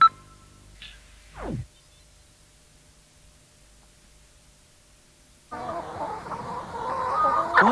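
Chickens in a battery farm clucking in a dense, crowded chorus that starts suddenly partway through and builds louder, after a quieter stretch with a brief sweeping sound near the start.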